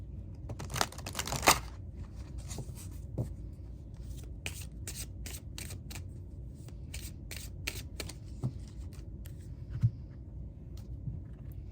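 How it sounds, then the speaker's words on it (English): A tarot card is drawn from a deck of cards, heard as a quiet series of crisp paper flicks, slides and shuffling snaps spread over several seconds, close by and with no talking. "So we're going to draw you a card from this deck."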